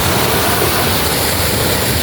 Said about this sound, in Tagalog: darating pa mas malakas na alon